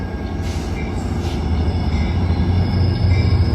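At Redwood City station, a Caltrain train passes close by with a loud, steadily building rumble of wheels and cars, and faint squeals ride over the roar.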